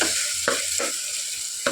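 A constant loud hiss of tomatoes frying down for a keema masala curry fills the pan, broken by three quick spatula scrapes against the pan, close.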